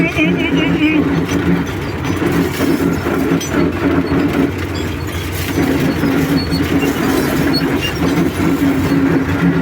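A tractor engine runs in a farm field during hay raking and fertilizing work, a close, loud, continuous rumbling drone with some rattling, steady throughout.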